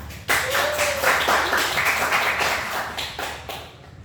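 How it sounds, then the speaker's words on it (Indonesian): Classroom applause, a dense wash of hand clapping from a group that starts abruptly, holds steady for a few seconds, then fades out. "Berikan aplaus"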